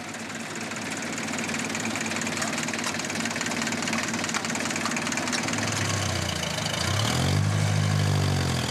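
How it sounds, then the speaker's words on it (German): An old 1976 John Deere 1030 tractor runs steadily at idle on a farm, a loud, continuous diesel rumble with a knocking throb that deepens and swells slightly toward the end, heard alone without speech. "Der alte John Gear Trecker 1030 von 1976 soll helfen."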